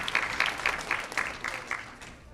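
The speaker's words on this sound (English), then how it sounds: "Let's give another big round of applause to our 5th grade boys" Audience at a 5th grade boys' yeshiva graduation clapping, with rhythmic bursts of claps gradually thinning and fading over a couple of seconds, moderately distant.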